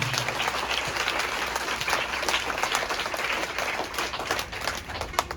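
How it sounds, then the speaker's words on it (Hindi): A school audience bursts into loud, sustained applause, many hands clapping together in a dense, steady roar that holds for several seconds. "दोनों हाथ उठा के एक बार जोरदार ताली बजाइए"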